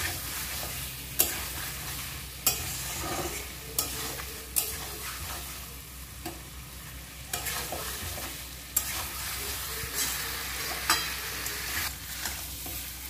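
Chicken being stirred with homemade biryani masala in a pan, a continuous soft sizzle broken by sharp, regular scrapes of the spoon against the pan every second or so.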